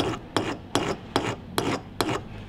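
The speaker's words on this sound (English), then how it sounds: "we need to take a file and file that down anyway" A hand file rasps across the ends of a titanium and gold wedding ring in six evenly spaced strokes, each a short, close, scraping burst, with no voices.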